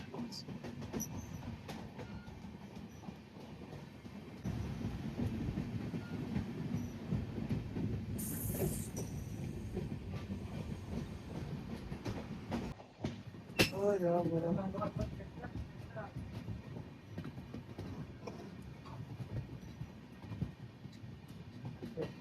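Konkan Railway's 10115 Madgaon Express running between Mumbai and Goa as it leaves a long tunnel in monsoon weather, a steady loud low rumble of wheels and carriage with hiss, and a brief tonal screech midway.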